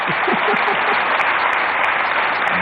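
Sustained applause from an audience at a BJP event in Delhi, loud and steady throughout with no speech over it.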